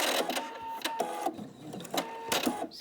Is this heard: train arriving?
no